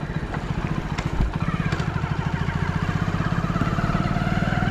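A Hero Splendor motorcycle rides along a road, its small engine putting out a steady, rapid, even thrum close by, with a brief bump or clatter partway through.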